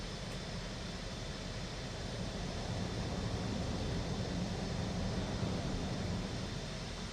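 Simulated helicopter ground effect in Microsoft Flight Simulator 2024 during a canyon flight, a steady, loud broadband rotor and engine roar with a continuous rushing texture and no breaks.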